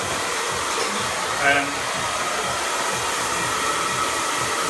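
Hair dryer blow-drying fine hair with a round brush, a steady close rushing airflow that runs without a break, with a brief faint brushing bump partway through.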